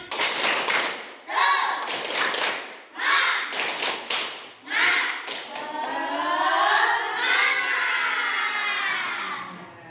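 A classroom of students doing the rhythmic 'tepuk semangat' clap, with sharp clusters of group claps in a patterned beat and voices chanting along, followed by a sustained shout together.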